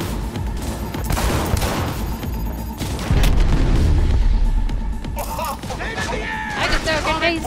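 Rapid automatic gunfire in Cyberpunk 2077 gameplay, dense bursts of shots and booming impacts layered over game music and effects, loud and continuous, with a player talking over the action.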